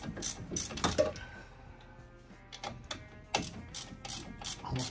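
A hand ratchet loosening brake caliper bolts on a 2019-2021 Chevrolet Silverado Z71 makes rapid clicking pawl ticks in bursts, close and crisp, pausing briefly midway before resuming.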